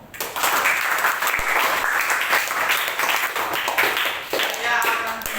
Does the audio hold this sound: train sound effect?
no